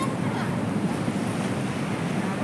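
Sea waves at the Konark shore at dawn, a steady broad wash of surf with wind rumbling across the microphone, continuous and fairly loud without clear breaks.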